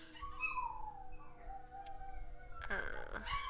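Dog howling in the Skyforge video game: a drawn-out wavering howl glides downward over steady background noise, then a brighter burst of sound near the end, heard alone.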